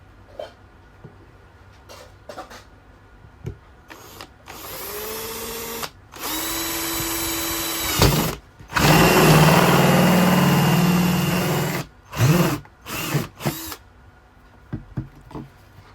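An Izom cordless drill bores a hole clean through a workpiece, its motor whining loud in several long bursts, then short stop-start pulses with clicks and handling noise between them.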